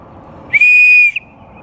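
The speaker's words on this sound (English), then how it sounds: "We have this little whistle" A small plastic toy whistle built into a kids' compass gives one loud, pure tone lasting about half a second, close up, alone.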